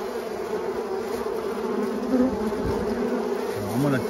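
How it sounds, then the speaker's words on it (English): Honeybees pour out of a trap-out in a steady, dense buzzing drone that holds for the whole stretch, with a few louder individual bees whining close past. "the bees are coming up out of here pretty fast"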